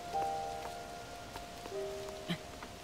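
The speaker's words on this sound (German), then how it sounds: "Natürlich regnet es gerade." Steady rain patters on surfaces in The Legend of Zelda: Tears of the Kingdom, a constant soft hiss with scattered drop ticks under faint tonal game music, and no talk.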